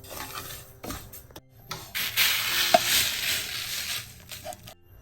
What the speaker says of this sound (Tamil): இனிமே மிச்ச சாமையை நான் வறுத்தெடுக்க போறேன்.